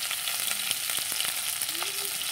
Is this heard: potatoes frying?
yes